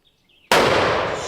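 .50 caliber rifle with a shorter barrel fired once outdoors, a single sudden, very loud crack and blast that rings out and decays slowly after a brief quiet moment.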